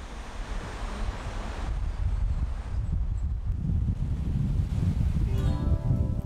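Sea waves breaking at Gyeongpo beach in Gangneung, a steady broadband wash of surf with gusty wind noise, continuous and fairly close, no voices.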